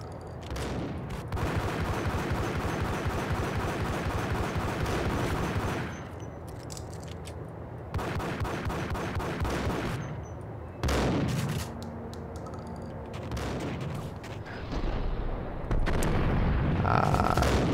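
Repeated bursts of gunfire from the Max Payne video game ring out loud and close, some rapid like automatic fire, separated by brief lulls with no talking.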